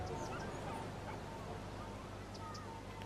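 Dogs barking at a dog park in the city-building game Cities: Skylines on PS4, a few small yips and barks sitting faintly over a dense, constant hum of city ambience.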